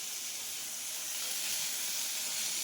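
Tomato cooks in a hot pan for a karimeen fish gravy, giving off a soft, even hiss and sizzle that stays faint and continuous, with no voices.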